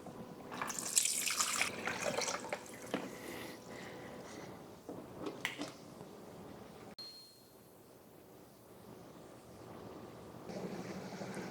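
A countertop water purifier fills its bucket, with close water splashing and trickling into the container alongside a few light clinks and dings, then settles into a quieter, steady fill.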